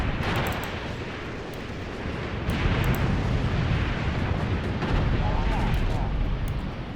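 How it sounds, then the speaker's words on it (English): A Katyusha rocket barrage pounds a war video game set in the Angolan Civil War as a continuous roar of booming blasts and rumbling impacts, loud and close. The barrage swells in intensity partway through. "we got Katyushas being fired at us, guys."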